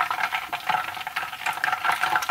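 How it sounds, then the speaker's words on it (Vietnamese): Chicken wings frying in hot oil, with a steady dense crackle and bubbling sizzle as moisture still pops in the oil, continuous and close without any talk. "Khi nghe cái tiếng vẫn còn nổ lóc bóc á, thì dầu nó vẫn còn có nước"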